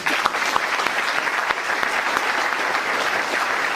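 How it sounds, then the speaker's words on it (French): A room full of people applauding at a public talk, dense continuous clapping with a few sharper individual claps standing out, fairly loud and close, lasting a few seconds with no speech over it. "Donc un applaudissement pour eux, s'il vous plaît."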